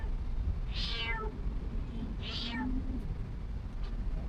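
A cat meows twice, short rising-and-falling calls about a second apart, nearby over a steady whooshing electric fan indoors.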